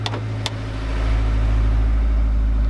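A Honda S2000 engine runs with a steady low hum after a couple of sharp clicks, its idle swelling slightly and holding at close range; the VTEC solenoid is unplugged.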